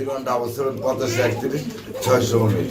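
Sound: pigeons cooing at a pigeon farm

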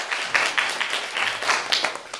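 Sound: audience applause for pilot Gene Harper

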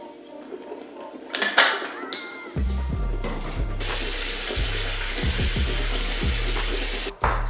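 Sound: pouring mouthwash

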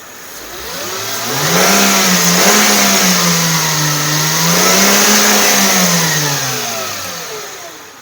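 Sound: car engine revving

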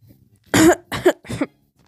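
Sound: cough

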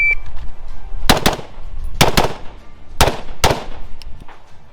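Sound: rapid gunshots from a pistol

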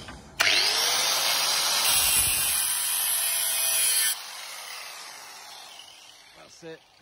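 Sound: drilling out spot welds

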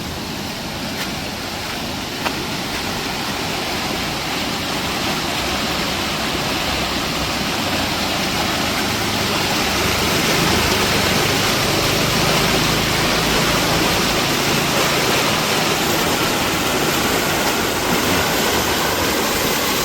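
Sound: heavy rain and flowing water

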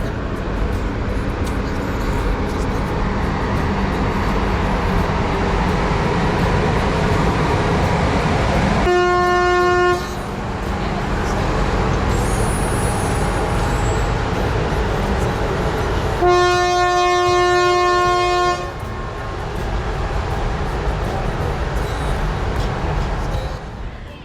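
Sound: train passing near a level crossing

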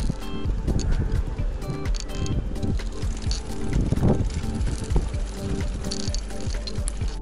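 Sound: riding a bicycle with homemade lights

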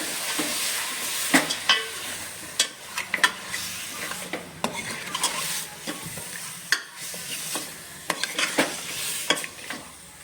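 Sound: mutton with salt and turmeric being stirred and sautéed

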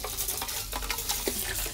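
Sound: tap water running while rinsing hair

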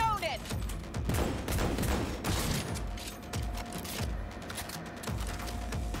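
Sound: gunfire in video game Cyberpunk 2077

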